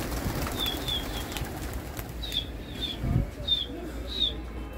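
Pigeons on a rooftop loft cooing in short repeated calls, with soft wing flapping and a voice talking faintly in the background.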